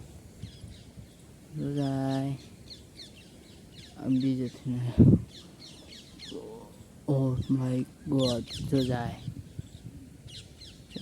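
Harsh, squawking parrot calls ring out in several bursts, close by, while people talk excitedly in between.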